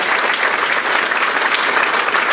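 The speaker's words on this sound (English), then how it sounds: "give them one more round of applause." A dense round of audience applause at a 2017 regional innovation awards ceremony in Sacramento, loud and steady throughout with no pauses, the clapping carrying on alone without any talk over it.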